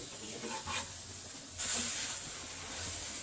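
An egg drops into hot oil in a pan and sizzles with a steady hiss that swells partway through, while faint background noise runs underneath.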